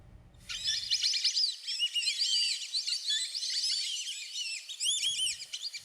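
A dense chorus of high, chirping birdsong starts after a brief low rumble and continues busily throughout, with rapid overlapping tweets and trills close to the microphone.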